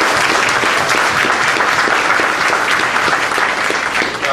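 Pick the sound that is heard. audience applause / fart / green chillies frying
audience applause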